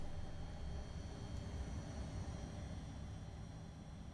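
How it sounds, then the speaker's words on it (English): Class 700 Thameslink electric train running in Train Simulator 2022, a steady broadband rolling rush with low rumble and a faint high whine, continuous and even throughout. "You can hear running sounds as well."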